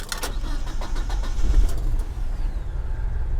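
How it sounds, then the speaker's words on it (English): An old RAM 50 mini truck engine cranks and catches, with a few quick starter bursts at the start, then settles into a steady low idle that carries on to the end, heard close with no talking. "Let's fire it up one more time."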